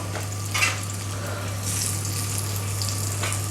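Small ginger pieces sizzle in a pan with a steady crackling fry and a low constant hum beneath, a brief louder burst near the start, no talking.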